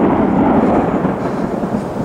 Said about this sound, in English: This storm is upon us.